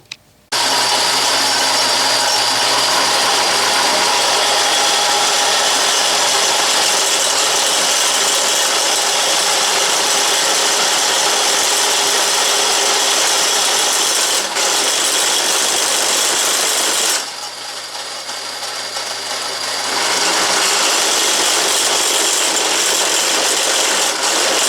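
A drill press runs with a step shank bit cutting through a pre-drilled 3/8 pilot hole, giving a loud, steady motor whine and grinding for most of the clip, dipping briefly before resuming.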